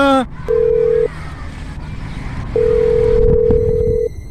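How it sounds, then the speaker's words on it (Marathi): Two electronic telephone ring tones, a short one and then a longer one after a pause, with a brief voice at the very start. "सॅमचा फोन"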